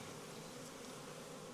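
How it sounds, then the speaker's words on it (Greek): Honeybees swarm around an open hive on a remote Greek island during a beekeeping visit with smoke. A steady, even buzzing hum fills the short clip, faint and unbroken, with no voices. "So how many bees are in here?"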